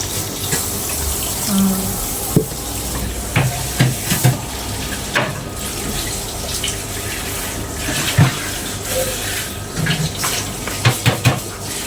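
Water poured into a large pot of rice for nasi lemak, a steady close hissing flow with scattered clinks and knocks from the pot over roughly twelve seconds.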